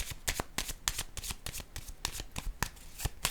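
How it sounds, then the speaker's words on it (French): Tarot-style cards handled and laid down during a card reading make a quick run of crisp flicking and riffling snaps, close and fairly loud, with no talk over them. "Je vais déposer une autre carte avant d'aller trop vite."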